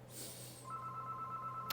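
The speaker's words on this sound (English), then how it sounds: "And there's the phone." A telephone rings faintly in a quiet room, with a steady electronic ringing tone coming in over a low background hum and a brief click near the end.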